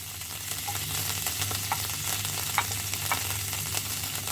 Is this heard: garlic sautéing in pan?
yes